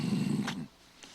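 A person imitates a deeper, more intense wolf growl: a low throaty rumble lasting about half a second up close, then breaking off into quiet with a faint breathy sound.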